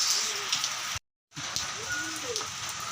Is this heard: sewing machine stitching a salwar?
no